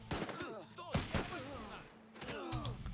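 Gunfire in the Civil War game Last Train Home pops in quick scattered shots and short bursts, fairly faint under a voice speaking over the action.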